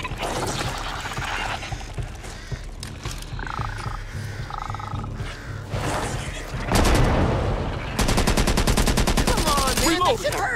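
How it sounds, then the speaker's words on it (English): Machine gun fire in the shooter game Back 4 Blood, rapid bursts of gunshots with booms and other game noises scattered through, growing louder and denser toward the end, with voices mixed in. "Machine gun."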